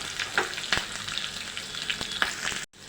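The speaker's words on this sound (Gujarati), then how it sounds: "હવે આપણે તેમાં મીઠા લીમડાના પાન એડ કરીશું અને આ 2 લીલા મરચાં લીધેલા છે એડ કરી દઈશું." Curry leaves and green chillies hit hot oil for a tempering, giving a loud, continuous crackling sizzle with sharp pops and a few stirring clicks, then a sudden cutoff just before the end.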